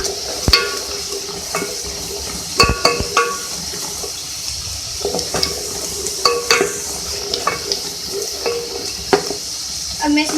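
Food frying in a pan before chicken is added, a steady close sizzle with sharp clattering taps of a spoon against the pan at irregular intervals.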